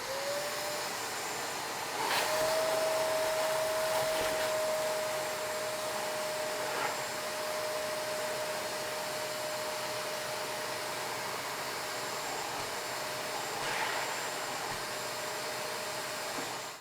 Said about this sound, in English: Let's open up this Shark vacuum here, just see what we captured.